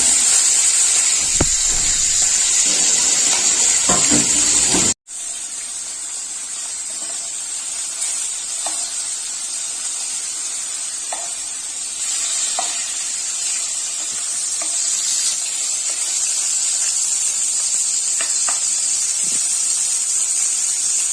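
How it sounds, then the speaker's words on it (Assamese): Fish fries in hot oil in a wok, with a steady, loud, close sizzle and hiss throughout, a brief cut partway, and no voices. "এতিয়া মই মাছখিনি অকমান ফ্ৰাই কৰিম"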